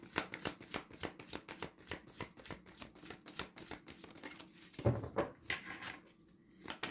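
Tarot cards being shuffled by hand, a quick steady run of soft papery riffles and slaps lasting several seconds, close and clear with no talking.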